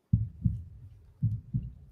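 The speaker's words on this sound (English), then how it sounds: "The heartbeat." Heartbeat sound effect, four soft low thumps in two close lub-dub pairs, alone and fairly quiet.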